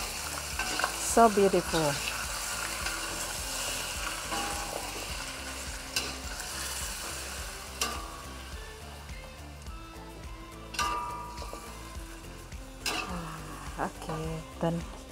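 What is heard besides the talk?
stirring and frying food in a pan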